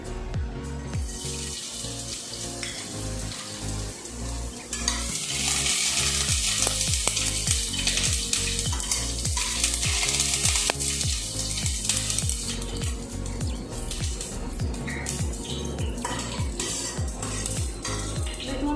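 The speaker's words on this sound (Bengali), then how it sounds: "আমি কড়াইটা গরম করে আবার এতে 1/2 কাপ মতো তেল দিয়ে দিয়েছি। এবার এতে প্রথমে রসুনটা দিয়ে দেবো।" Garlic dropped into about half a cup of hot oil in a heated wok, bursting into a loud, dense sizzle that holds steady, with a faint rhythmic low pulsing underneath.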